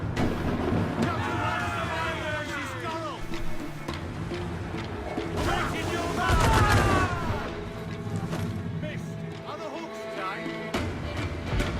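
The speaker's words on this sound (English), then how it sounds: "let's mortar this thing" Ship mortar fire in the video game Assassin's Creed IV: one heavy, low boom lands midway through, over steady sea and wind ambience, creaking and chirping effects, and background crew chatter.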